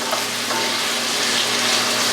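Smothered potatoes frying in a pan, giving a dense, steady sizzle that holds at an even level from start to finish with no voices over it.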